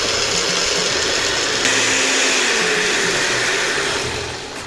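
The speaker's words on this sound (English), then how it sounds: "Into the blender the beans go" A blender pureeing black beans whirs loudly and steadily for several seconds, its motor pitch shifting briefly partway through before the noise tapers off at the end.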